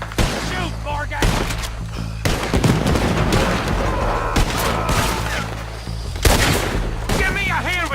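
Gunfire in Red Dead Redemption 2, repeated loud shots and booming blasts in an irregular fusillade, with shouting voices mixed in.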